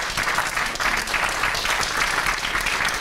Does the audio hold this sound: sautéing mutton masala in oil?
no